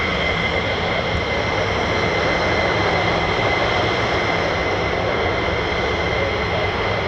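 F-15 or F-35 fighter jet taking off at RAF Lakenheath: a continuous loud, broadband engine roar and hiss that holds steady throughout, with no talk.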